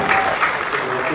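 Audience applause for a singer, a steady wash of many hands clapping at a concert, loud and sustained for the whole moment without a break.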